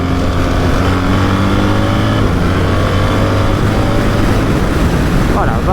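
A BMW R 1300 GS motorcycle engine pulls hard and climbs in pitch under steady wind roar, loud and close throughout, with a rider's voice faintly mixed in.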